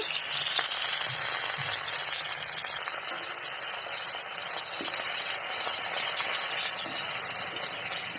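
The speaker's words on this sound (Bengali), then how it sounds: "এখন রুই মাছের মাথাগুলো ভেজে নিচ্ছি" Loud, constant sizzling of rohu fish heads frying in hot oil, a dense hiss that stays steady throughout with faint occasional pops.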